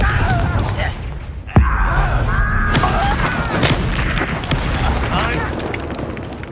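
Confringo fire spell blast in the Hogwarts Legacy video game on PS5: a single sharp booming burst partway through, set among layered game effects and a voice.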